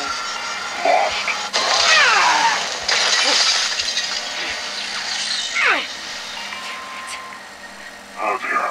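Glass shattering in a Cold War Zombies radio log, a sharp crash near the start followed by tinkling shards and scattered clinks over a low background hum, with voices speaking around it.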